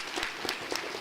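Applause for student skills-competition winners at a school board meeting, a steady wash of many hands clapping at moderate distance, continuous through the short moment with no talk over it.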